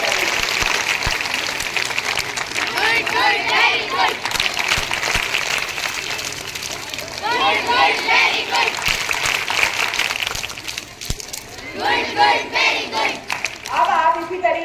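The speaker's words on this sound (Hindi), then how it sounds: "तो आप एक विशेष ताली से ममता मैम का स्वागत करें।" An audience at a school event claps in sustained bursts of applause that swell and fade several times, with children's and adults' voices mixed in around the clapping.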